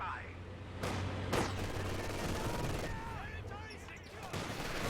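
Gunfire in the World War II strategy game Company of Heroes 2, a machine gun position cutting off a flanking push, with sharp bursts over steady battle noise and a voice talking throughout.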